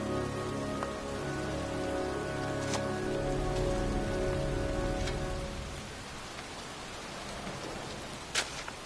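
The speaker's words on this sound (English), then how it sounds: "standing in a cemetery in pouring rain" Pouring rain in the video game Heavy Rain, set in a cemetery, falls as a steady, dense hiss of drops, with a couple of sharp isolated splashes standing out near the end.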